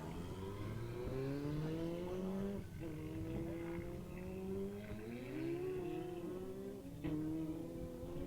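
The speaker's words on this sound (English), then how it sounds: "Edward Main's just been released on his 12 Kawasaki ZX14R" A Kawasaki ZX14R drag motorcycle with extended swing arm and headers launches down the strip, its engine climbing through sustained rising harmonic sweeps with brief dips between gear changes, loud and continuous throughout.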